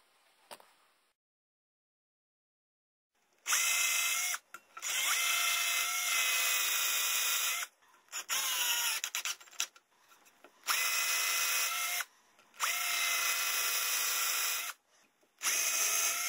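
Power drill driving screws into a wooden knife bevel filing jig, several loud whirring bursts of a few seconds each separated by short pauses, close up with no speech.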